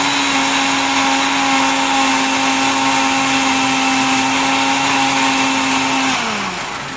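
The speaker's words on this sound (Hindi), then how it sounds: "हमें जो उबला हुआ ये जो सरसों है इसको मिक्सी में इस तरह से पीस लेना है।" A kitchen mixer grinder whirs loudly and steadily as it grinds boiled mustard greens for saag, a constant high motor drone that winds down and drops in pitch near the end.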